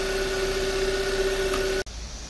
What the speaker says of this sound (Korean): 점프돼서 시동을 걸었고요.